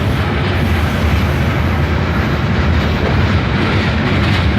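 A locomotive pulling cars rolls along railroad tracks, giving a loud, steady, broadband roar that stays constant and close throughout, with no voices.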